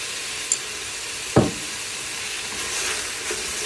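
Onions frying over full gas with salt added, a steady sizzle with a brief scrape and clack of stirring in the pan partway through.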